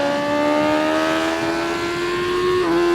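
A 2025 BMW S1000RR revs high and steady, then its loud, close engine note eases down under engine braking, with a brief pitch dip near the end.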